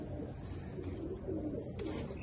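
Pigeons coo softly and low amid steady background murmur in a loft where a Teddy hen is paired with a Sialkoti pigeon, with no clear speech.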